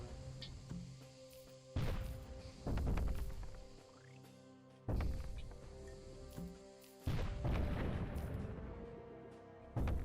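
Cannon fire in the video game Cannon Brawl: several loud, booming shots land at irregular intervals, each with a sharp attack and a rumbling decay, over a steady hum of game music and ambience.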